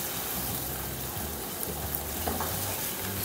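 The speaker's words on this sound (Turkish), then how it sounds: "Sosum artık fokur fokur kaynıyor." Tomato-style sauce for beyti kebab bubbling and boiling in a pan after salt is added, a steady close crackling simmer with soft popping bubbles and faint stirring, no talking.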